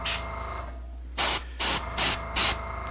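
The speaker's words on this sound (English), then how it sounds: "we'll start off with just deep gray in the airbrush" An airbrush sprays deep gray paint onto model armor pieces in four short hissing bursts, close and crisp, following a brief opening spurt, with a faint background hum between them.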